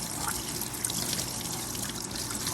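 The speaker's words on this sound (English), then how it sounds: "We're just going to wash this out." Liquid runs steadily through a Dana 44 axle housing being washed out, a continuous close trickling and splashing with no talk over it.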